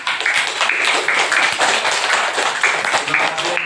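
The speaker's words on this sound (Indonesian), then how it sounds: "Kita beri tepuk tangan untuk kelompok Cherry." Classroom of children clapping for a student group after their presentation, a dense steady patter of many hands close by, with voices mixed in under it.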